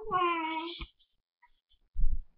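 A person mimics a cat's meow with one drawn-out, wavering cry, then a short pause and a low muffled thump or rustle near the end.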